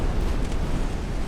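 A torpedo strikes a warship in a naval battle in Ultimate Admiral: Dreadnoughts, a deep, sustained rumbling blast that roars loudly and steadily throughout with no talk over it.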